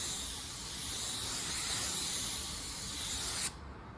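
Porphis 717 spray gun applying automotive paint to a car panel: a steady, close hiss of atomised spray held for several seconds, then cut off abruptly near the end, with no talking.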